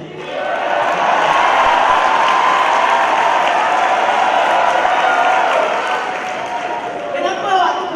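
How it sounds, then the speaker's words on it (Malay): A student audience at a university event in Melaka, Malaysia, claps in a loud, sustained wash of applause with crowd murmur mixed in, swelling slightly near the close. "Bagi kuat tepuk dia."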